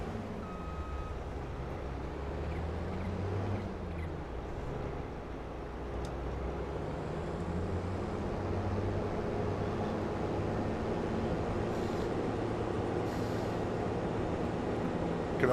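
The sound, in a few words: combine harvester driving, from a farming video game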